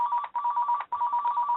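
A telephone rings in two closely repeated electronic trill bursts separated by a brief gap, clear and fairly near with nothing else audible.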